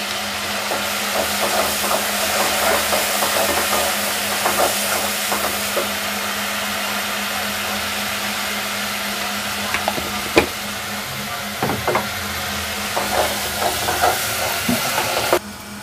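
Chili paste and turmeric fry together in a pan as a dense, steady sizzle with a faint hum underneath, broken by occasional stirring clinks and scrapes over nearly sixteen seconds.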